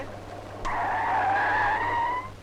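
A bus skids to a stop with a single drawn-out tire squeal lasting under two seconds, fairly close against a low background hum.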